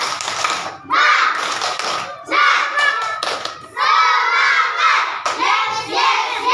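Classroom of children doing the rhythmic 'tepuk semangat' clapping chant, several loud bursts of clapping mixed with shouted voices, close and lively, separated by brief pauses.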